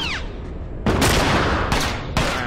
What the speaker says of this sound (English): lots of gunfire there